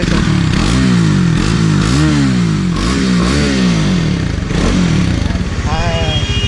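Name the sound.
motorcycle dual exhaust note revving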